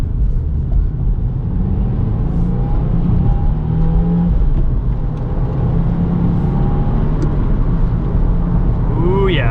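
A 2022 Subaru WRX with the 2.4-litre engine and six-speed manual pulls hard on a wet Road America track, its engine note steady and loud, rising as it accelerates, with a driver's voice over the top.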